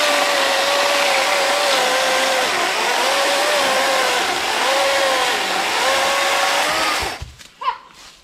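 A Kobalt 24V cordless chainsaw cuts through blackberry brambles with a loud, steady electric whine that wavers in pitch under load, then stops abruptly near the end, followed by a few faint rustles.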